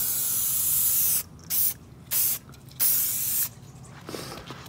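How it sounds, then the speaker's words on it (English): A steady hiss of cleaner sprayed onto motorbike tires, followed by several short bursts of spraying, close by, with brief quiet gaps between them. "But I spray down the tires."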